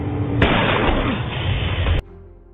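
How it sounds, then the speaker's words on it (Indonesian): A sniper rifle gunshot in an action film erupts as a sudden loud blast, followed by a sustained roaring burst that cuts off abruptly, with no talking. "Thomas juga melepaskan tembakan dan tepat mengenai jantung Valstoria"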